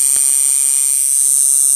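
A long-stroke tattoo liner machine with a 3.5 to 4 millimeter stroke runs alone with a loud, steady high-pitched electric buzz.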